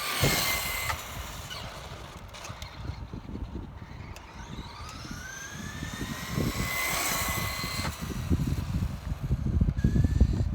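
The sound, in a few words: Traxxas Slash 2WD brushed RC truck driving at top speed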